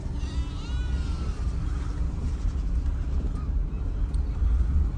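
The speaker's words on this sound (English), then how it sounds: "little farms, all the goats there" Goats on a small farm in Morocco bleat several times in wavering calls at middle distance, over the steady rumble of a nearby vehicle.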